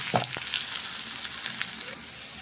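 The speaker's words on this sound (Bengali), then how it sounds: "তেলের মধ্যে শুটকি পেঁয়াজ কাঁচামরিচ রসুন দিয়ে দিলাম" Dried fish, onion, green chili and garlic go into hot oil and fry with a steady close sizzle, with a few sharp spatters and stirring scrapes near the start and no voices.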